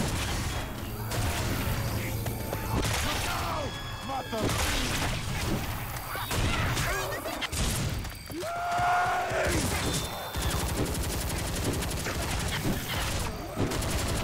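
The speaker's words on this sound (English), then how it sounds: "Stop shooting me!" Rapid bursts of gunfire in Left 4 Dead 2 with scattered shots, clanks and impacts, running almost continuously, loud and close, with voices talking over the game action.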